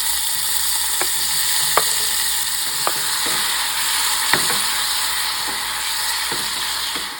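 Tomatoes dropped into hot oil sizzle and pop steadily, with a spoon scraping the pan in occasional sharp clicks; a continuous close frying hiss with no talking.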